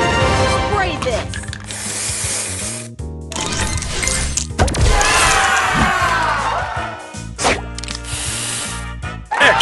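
Spray booster effect in the Match Masters mobile puzzle game, a bright sprayed hiss among chiming clinks and whooshing game effects, loud and busy with repeated bursts over roughly ten seconds.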